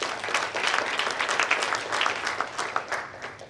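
A brief, dense round of applause from the audience at a Healthy Caribbean Coalition address, steady clapping throughout with a few sharper individual claps near the end.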